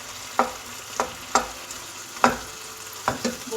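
A spoon breaks apart cooked chicken pieces in a hot pan, five or six sharp scraping knocks at an uneven pace over a low, steady sizzle, close and clear without any talking.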